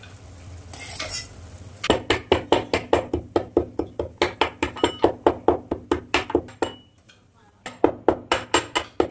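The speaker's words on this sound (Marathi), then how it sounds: "ह्याच्या 4 विलाच्या आपण बारीक करून घेऊया." Cardamom pods are crushed with a fast, even run of sharp, close knocks, roughly four per second, with a brief pause before the pounding resumes.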